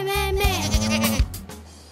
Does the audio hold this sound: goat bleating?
yes